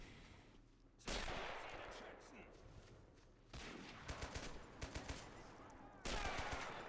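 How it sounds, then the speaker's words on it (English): Rifle and small-arms gunfire in the WWII strategy game Men of War: Assault Squad during an Arnhem bridge battle, with bursts of sharp cracks in clusters over a steady battlefield din and a narrating voice. "accurate shot from that Panzergrenadier brought down the one lone British soldier trying to cross the actual bridge"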